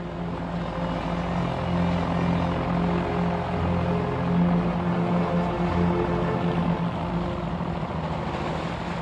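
Sopwith Pup biplane from the First World War, its rotary engine droning steadily and fairly loud throughout, a continuous aircraft hum with no voices over it.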